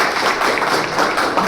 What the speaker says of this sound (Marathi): जोरदार टाळ्यांचा कडकडाट आपण करूया.